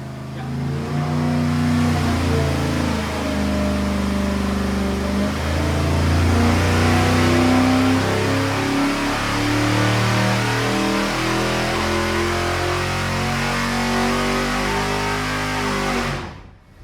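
A 355 small block Chevy engine with a small cam runs on a dyno, revving hard at high RPM for a sustained stretch, loud and close, its roar rising and falling before cutting off abruptly at the end.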